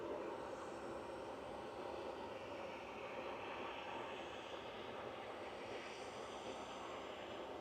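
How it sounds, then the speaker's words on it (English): A Turkish Airlines Airbus A330 taxis at Manchester Airport, its jet engines producing a steady, distant broadband roar that holds level throughout without talk. "Turkish A330 making its way across"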